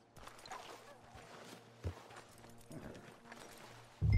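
Horse hooves clip-clop at a steady walking pace in the Red Dead Redemption 2 video game, fairly soft and mid-distance, with a low background hum and a sudden loud thump at the end.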